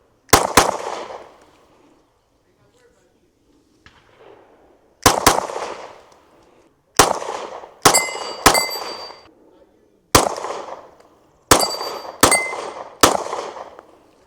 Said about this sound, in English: 8-inch steel gong down there.